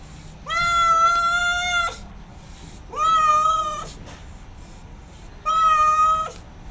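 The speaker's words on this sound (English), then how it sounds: "Oh, here's the cat again." A cat at a night market in Siem Reap, Cambodia, gives three long, clear meows close by, each lasting about a second or more with pauses between, over a low background hum.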